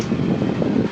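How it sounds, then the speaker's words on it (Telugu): A small electric fan whirs steadily nearby, a continuous low airy hum with slight fluttering, no voices. "బుజ్జి ఫ్యాన్ ఉంది నాకు గాలి వస్తూ ఉంది"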